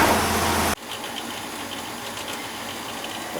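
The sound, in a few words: furnace exhaust fan running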